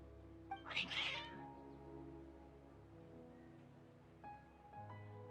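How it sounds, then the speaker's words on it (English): Cats meowing in a video game, a loud caterwauling meow near the start followed by quieter tonal game sounds and another faint cry near the end, no talk over it. "Your cats seem pretty worked up."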